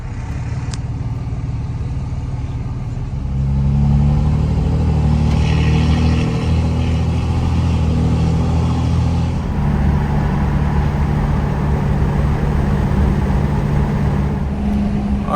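A truck engine drones steadily with road rumble and rushing air through open windows, the roar swelling as it picks up speed, no voices heard.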